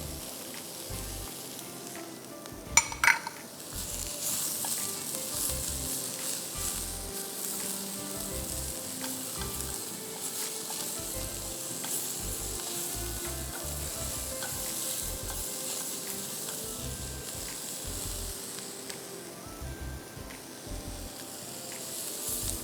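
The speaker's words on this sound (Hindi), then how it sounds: "पहले सारी सब्ज़ी चिकन वगैरह को अच्छी तरह सॉटे होने दीजिएगा।" Chicken sautés with capsicum, carrot and chopped garlic, giving a steady, close sizzle and hiss from the pan with frequent scraping and stirring knocks throughout.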